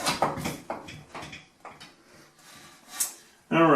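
A sliding shower door worked along its channel, giving several short scraping and knocking bursts with pauses in between, close and fairly quiet, ending in a louder rubbing scrape.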